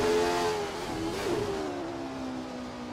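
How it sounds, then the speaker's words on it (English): A Jordan 191 Formula One car in a racing video game, driven at Spa, roars close by with a steady high engine tone that dips slightly mid-clip and then holds as it pulls away, alone with no speech. "the sounds of cheering fans should just barely be audible over the roar of the engine"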